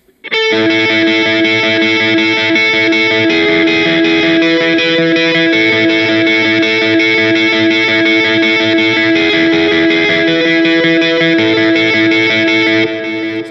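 A loud, distorted electric guitar plays a sustained, repetitive lead line with heavy effects, continuous and dense throughout.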